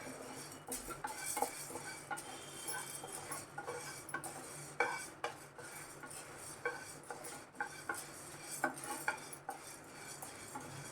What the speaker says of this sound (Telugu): ఇప్పుడు మినప్పప్పు వేసుకోవాలి.